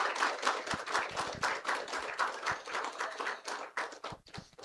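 An audience at a meditation talk claps, a dense patter of hands that swells and fades for a few seconds, fairly close, with no voices.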